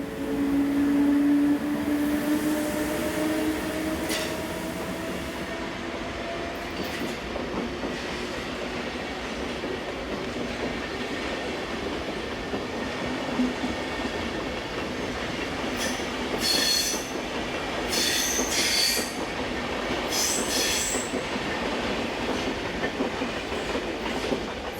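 BLS locomotive 460-040 departs north with InterCity train IC 960 from Interlaken to Basel, rolling past with a steady rumble, rhythmic wheel clatter and occasional high squeals from the wheels, sustained and fairly loud.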